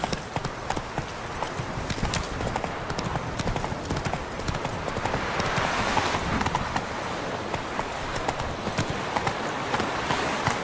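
Roach the horse gallops in The Witcher 3, a steady clip-clop of hooves carrying through the whole stretch, close and fairly loud, with faint voices underneath.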